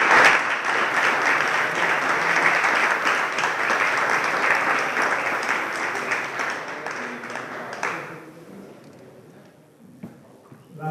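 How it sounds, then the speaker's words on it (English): An audience at a landscape conference gives a sustained round of applause, dense and steady for about eight seconds before fading into scattered claps and room quiet. "So we would like to pay homage to him with a round of applause"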